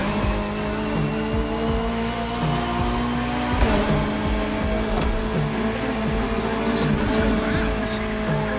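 Race cars including a Ferrari 488 GT3, McLaren Senna GTR, Bugatti Bolide and Lamborghini Essenza racing in The Crew Motorfest, with loud, steady high-revving engine whine, gear-change pitch shifts and a close, continuous roar throughout.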